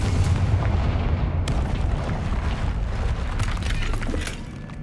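Spell blasts from the Bombarda, Expelliarmus and Confringo charms in the Hogwarts Legacy video game, a steady loud rumble of booming impacts with sharp cracks layered through, continuing without a break and easing slightly near the end.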